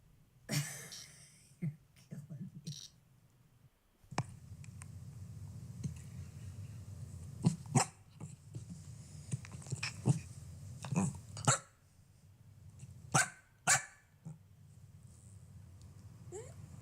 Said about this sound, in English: That's a really cute dog.